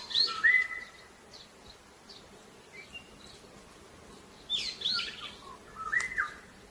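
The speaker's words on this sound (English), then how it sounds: "Birds are 새. Can you make the sound of birds?" Sparse bird chirps and short whistled calls, a few isolated notes early then a small cluster near the end, fairly faint over a quiet outdoor background.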